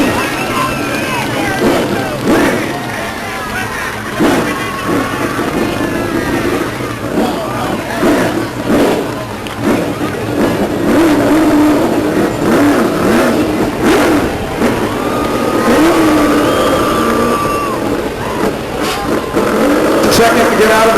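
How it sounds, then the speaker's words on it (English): Race car at Stockton 99 Speedway doing a tire burnout, a loud continuous engine roar with revving and screeching under an announcer's voice and crowd noise. "He's going to burn off some tires for you."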